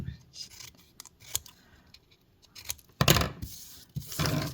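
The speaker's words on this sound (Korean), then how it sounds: "그대로 대고 싹둑 싹둑" Scissors snip through paper while making a paper-folded model of french fries: a few sharp, separate cuts, then a denser run of crisp snipping close to the listener.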